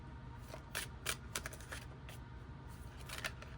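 Tarot cards shuffled in the hands, a soft, quiet, continuous riffling with several brighter flicks, no voices present.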